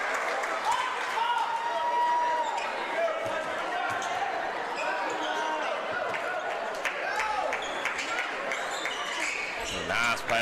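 At a Wayne versus Lawrence County high school basketball game, the gym crowd cheers and shouts over squeaking sneakers and bouncing balls, a dense, continuous roar with voices throughout.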